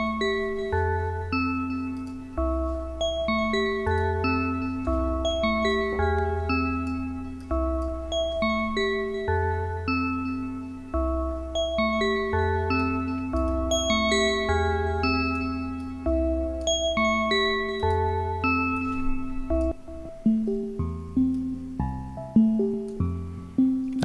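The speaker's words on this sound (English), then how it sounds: "this could get us close to a wind chime sound to start with" Synthesized bell tones made to resemble a wind chime ring out in overlapping sequences of pure pitches, sustained and clear, layered over deeper synth notes and continuing throughout.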